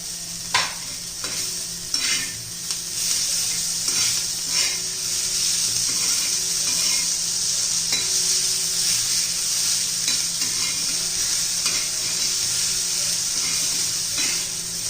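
Green chilies, garlic and coriander fry and get stirred in a pan for a spicy besan chilli kharda, giving a steady loud sizzle and hiss with scraping stirs throughout.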